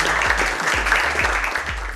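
Warm round of applause from a seated group around a table at a retreat, many hands clapping together, close and steady for a short burst.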